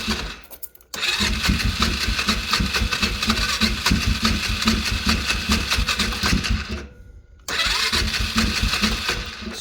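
A small engine bought from Temu is cranked on choke and catches, running loud and close with a steady rattling rhythm, cutting out briefly and then firing up again.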